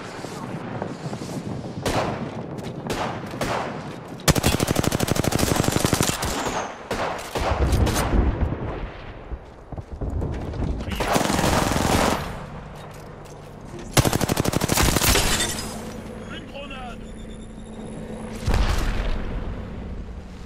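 Loud rapid-fire weapon bursts in Apex Legends, several long sustained volleys separated by short gaps, with booming impacts and a voice speaking between shots.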